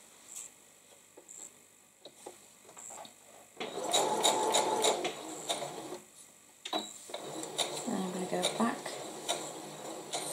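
Domestic sewing machine stitching a quilt in short bursts of rapid mechanical ticking, with quiet pauses and handling noises between runs; close and moderately loud, with no talk.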